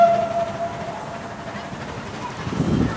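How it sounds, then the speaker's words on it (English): A heritage railway train rolls through a station platform at the Avon Valley Railway, a loud rumbling passage with a faint whistle tone early on and a swelling low roar at the end. "The approaching train is not scheduled to call."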